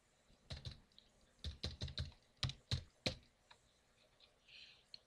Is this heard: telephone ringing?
no